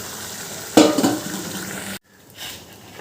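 Boiled dal and fried vegetables tipped into a hot pan and stirred for a veg dal, a sudden loud splash and sizzle followed by fading scraping, then a quieter stir after a short gap.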